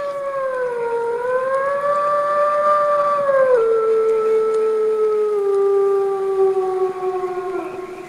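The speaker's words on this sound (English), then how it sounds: "we might well hear wolves at night in our camp" Mexican gray wolves howl in the wild at night, several long wavering tones overlapping and sliding in pitch, loud and sustained, with no talking.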